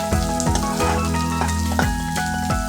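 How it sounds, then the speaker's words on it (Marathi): Onion roasting in a pan for a wheat-flour Maggi, a soft sizzle with spatula scrapes sweeping through at intervals, close and loud, with background music droning throughout. "कांदा व्यवस्थित भाजून घ्या"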